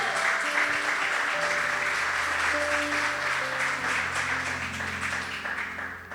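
Sustained applause from a church congregation, dense and steady, with sustained musical tones playing underneath and the clapping fading slightly toward the end.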